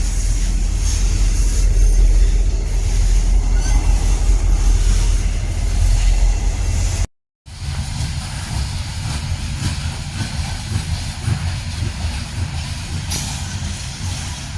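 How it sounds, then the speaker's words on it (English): A Norfolk Southern freight train hauled by two GE Evolution Series (GEVO) locomotives rumbles past on the Harrisburg Division, a steady loud low roar of engines and rolling cars, broken by a brief cut, with no talk. "My 24th train of the day. It's just 2 Gevos."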